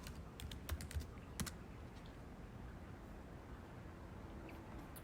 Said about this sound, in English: we're going to type in The Guardian